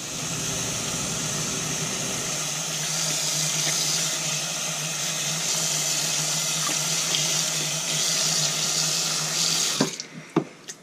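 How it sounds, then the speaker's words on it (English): Water runs from a tap into a small dish tub set in a basin, a steady close rushing stream that cuts off near the end, followed by a few faint clinks. "Now I'm gonna get some water going."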